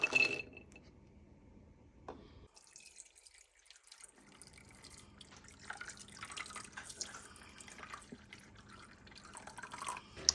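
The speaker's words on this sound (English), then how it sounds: "I've covered the almonds with purified water" Purified water is poured over raw almonds in a bowl, giving a soft, steady trickle with scattered drips at close range. The water continues quietly throughout, with no voices.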